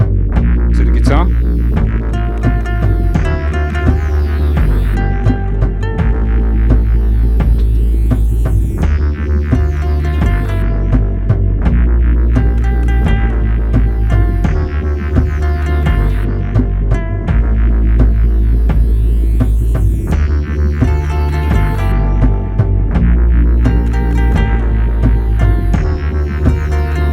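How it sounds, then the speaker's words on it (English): A guitar lick with added reverb plays through a Boss RC505 looper, repeating phrases of plucked, ringing notes over a steady low throbbing pulse, loud and continuous with no talking. "I'm going to try playing a little lick. I'm going to add a bit of reverb"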